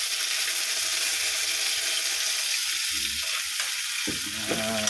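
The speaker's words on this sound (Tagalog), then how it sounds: "brownin natin yung bawang guys" Garlic browns in hot oil alongside ginger, giving a steady close frying sizzle throughout with a few soft clinks and stirring sounds near the end.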